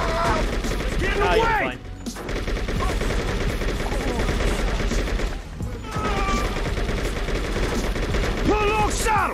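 Rapid gunfire from a car chase in True Crime: New York City, with bursts of automatic shots crackling continuously over engine noise and game music, while voices talk over the action.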